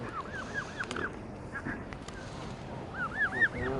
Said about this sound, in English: they look a bit like Canadian geese